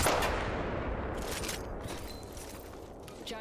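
Apex Legends gunfire crackles as a dense, continuous barrage, loud at the start and easing slightly while sustained rattling shots continue throughout.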